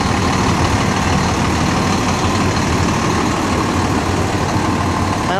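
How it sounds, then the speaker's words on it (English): A Pasco County Fire Rescue E1 pumper fire engine idling nearby, a loud, steady diesel rumble with broadband roar and no change in pace throughout. "Pasco County Fire Rescue. An E1 pumper."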